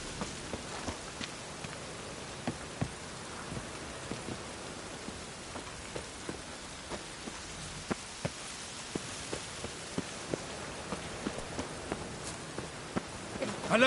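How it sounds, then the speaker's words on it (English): Steady rainfall in The Witcher 3 hisses softly and evenly, dotted with sharp drop ticks and light footstep-like taps, fairly quiet with no talk. "Witches have conjured rain."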